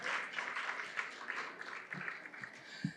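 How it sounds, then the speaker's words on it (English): A brief round of applause for Justice Zukisa Chikwe at a journalism awards ceremony, soft and diffuse crowd clapping that thins out over a few seconds. "Another round of applause, ladies and gentlemen,"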